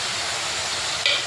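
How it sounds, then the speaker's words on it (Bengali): Chopped tomato frying in a pan for a Bengali niramish potoler dalna, a dense steady sizzle with a brief brighter hiss near the end, close and alone. "টমেটোটা অল্প ভাজা ভাজা করে নেব যাতে নাকি কাঁচা গন্ধটা চলে যায়।"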